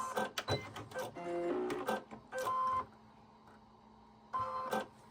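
A sewing machine stitching fabric for wide leg pants, in short whirring bursts separated by pauses, close and fairly quiet.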